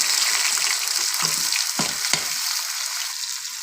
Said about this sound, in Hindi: अब इनको थोड़ी देर के लिए भूनेंगे